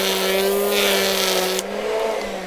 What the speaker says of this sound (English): Let me show you the exact moment where the line snaps.